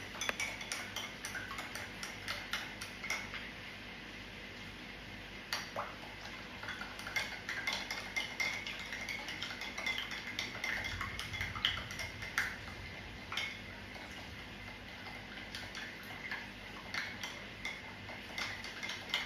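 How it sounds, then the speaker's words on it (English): Food being stirred vigorously in a pot on the stove, with a quiet, continuous run of rapid spoon taps, scrapes and clinks against the metal. "Now we are absolutely stirring the fuck out of this"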